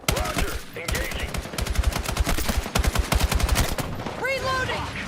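A video game weapon fires in rapid automatic bursts, sharp repeated cracks in quick rhythm, with radio-style voices calling out over the shooting.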